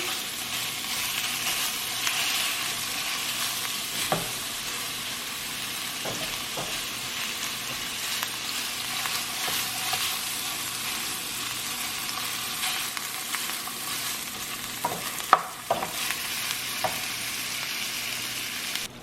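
Ground beef fries in oil in a pan with a steady, close sizzle throughout, broken by occasional clicks and scrapes of stirring.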